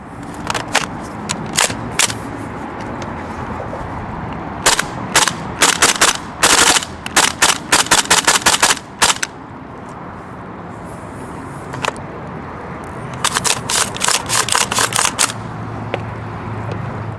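Rapid bursts of shots from a KWA Lithgow F90 gas airsoft rifle, several clusters of sharp snapping reports with short gaps between, loud and close with a constant background hiss.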